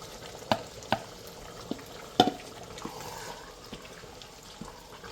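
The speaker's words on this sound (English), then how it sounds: "So I'll just go ahead and add my tomatoes." Tomatoes for chicken biryani land in hot oil with a quiet, soft sizzle, punctuated by a few sharp clicks and knocks of stirring and utensil contact, with no talking.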